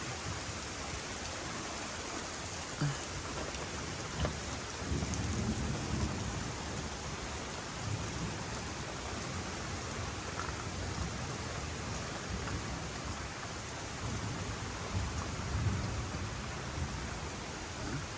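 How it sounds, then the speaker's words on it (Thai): Heavy rain pours down steadily in a dense, loud hiss, with low thunder rumbling beneath it and no voices. "นี่ครับฝน ถล่มลงมา ค่อนข้างที่จะแรงนะครับ"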